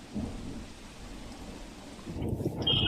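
Steady heavy monsoon rain pours in a dense wash of noise over waterlogged streets in Bhuj, Kutch, swelling louder toward the end.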